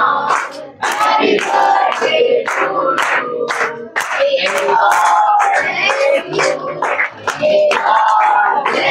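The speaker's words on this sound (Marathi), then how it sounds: "टाळ्या टाळ्या टाळ्या" A crowd of guests claps continuously and loudly at a child's birthday party, dense rhythmic hand claps mixed with cheering voices throughout.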